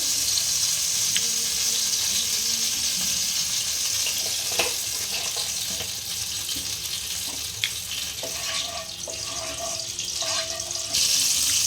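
Oil heating in a hot kadai gives a continuous loud sizzle and hiss with a few clinks, close, and no voices.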